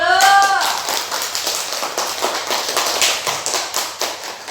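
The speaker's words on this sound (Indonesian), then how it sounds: "Tepuk tangan dulu." Classroom of children clapping together, a close burst of fast, uneven hand claps that gradually thins out, with a brief voice at the start.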